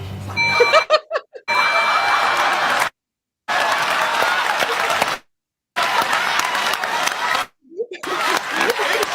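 Applause from a video being played back, bursts of clapping broken by sharp cuts to silence, with snippets of chuckling and a crowd murmur between the sections.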